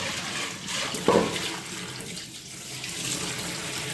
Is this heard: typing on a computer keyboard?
no